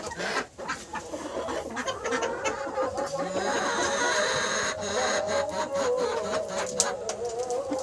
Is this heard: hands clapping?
no